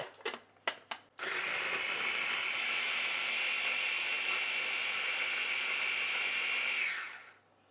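A loud, steady motorized whir runs for about six seconds after a few short bursts, then winds down and stops.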